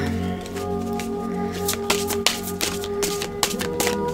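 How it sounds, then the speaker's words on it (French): Playing cards are shuffled for a tarot reading, a quick series of riffling flutters and soft slaps close by, with a few sharper snaps near the end. "on va battre les cartes"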